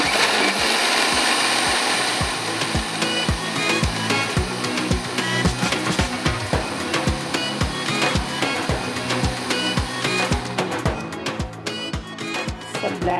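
A kitchen blender whirs loudly and steadily, blending tomatoes with water, its motor droning under rhythmic knocking as contents are churned, then it cuts off near the end.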